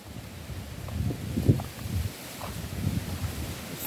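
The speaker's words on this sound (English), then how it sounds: "Still getting wind here" Hurricane wind during Hurricane Beryl in Grand Cayman buffets the microphone and rustles trees around a property, a steady, fairly quiet rushing roar with irregular gusts.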